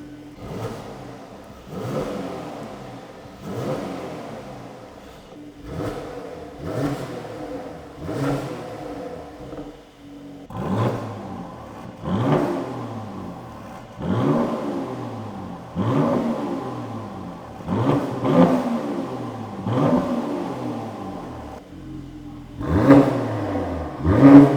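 A Mercedes C43 with its resonator deleted and exhaust valve open revs repeatedly, each sharp throttle blip rising and falling in a loud, rough burst, roughly a dozen in a row, growing louder toward the end.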